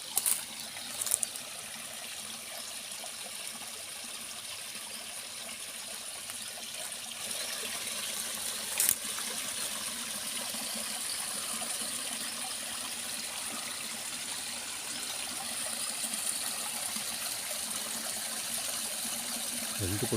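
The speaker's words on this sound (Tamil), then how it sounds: "மலையில் வந்து தண்ணி வருது." Water trickles down from a mountain in dense forest, a steady soft flow with faint splashes nearby and a few brief knocks near the start.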